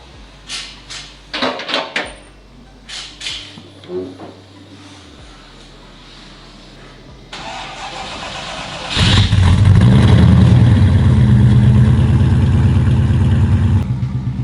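Clunks and rattles give way to an early Holden Commodore with an LS V8 conversion and full exhaust cranking and catching, then a loud, deep idle that swells into heavy revving, steady and close.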